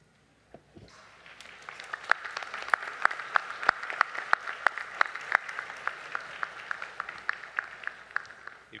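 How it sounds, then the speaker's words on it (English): Graduates at a pharmacy commencement ceremony give a sustained round of applause for family and friends, dense clapping from a large crowd swelling in after a brief pause and holding steady and loud with crisp individual claps standing out. "Graduates, can you stand and give your family and friends a round of applause?"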